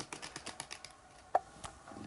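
Keys click on a computer keyboard attached to a Mac running OS X Yosemite, a quick run of light, evenly spaced keystrokes followed by a sharper single tap and a few scattered presses, close and quiet.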